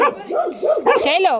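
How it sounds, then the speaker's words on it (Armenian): A dog gives a few quick, close, loud barks and yips with whiny edges, and a person speaks briefly over the barking. "Ահա, հաչեց"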